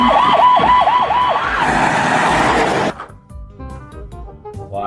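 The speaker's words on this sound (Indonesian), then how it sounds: "Kalau yang ini ambulan teman-teman." A toy ambulance siren wails in a rising-and-falling pattern for about three seconds, fairly loud and close, then cuts off, leaving soft tinkling toy music and light clatter.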